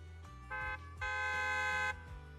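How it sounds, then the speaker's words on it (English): Trucks in Zenless Zone Zero sound their horn in a loud open area, two sustained honks, a short one followed by a longer blast, over a low rumbling engine drone. "a loud honk echoes as several trucks with the Leaps and Bounds logo drive into the open area"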